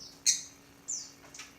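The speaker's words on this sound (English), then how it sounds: "this is my pet bird too." A pet bird calls indoors with two sharp, high squawks followed by a fainter chirp, short and fairly close against a quiet room hum.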